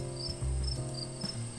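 Crickets chirp in a steady, repeating pulse, a high, thin trill that stands alone against a quiet background.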